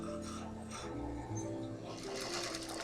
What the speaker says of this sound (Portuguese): Vou dar meu retrocesso normalmente e vou fazendo a minha costurinha.